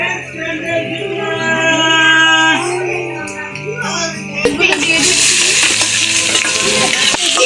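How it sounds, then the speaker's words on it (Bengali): Potatoes are tossed into hot oil and fry in a pan with a loud, close sizzle and stirring scrapes, which swell near the end. Music plays throughout. "আলুগুলো দিয়ে দিচ্ছি"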